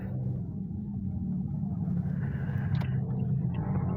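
A Toyota Vios fourth-generation engine runs at a steady idle after a repair for jerking and delayed pull, a low, even rumble with a faint high tick near the end and no talking.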